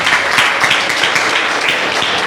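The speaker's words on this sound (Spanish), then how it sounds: "Vamos a ponerle un fuerte aplauso al Señor." A church congregation bursts into loud, sustained applause, a dense wash of clapping that carries on evenly from start to finish with no voice over it.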